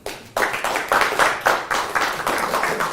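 Small audience applauding after a close-up coin magic trick, a burst of claps that swells into continuous clapping, fairly near and moderately loud with no talk.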